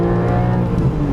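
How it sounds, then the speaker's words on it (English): A Porsche 718 Cayman GTS 4.0 braking hard on the Estoril circuit in Sport Plus mode, its engine blipping to match revs, a loud close engine drone heard from inside the car with no talking. "Hard on the brakes. Now you hear the rev matching is because we have it in Sport Plus."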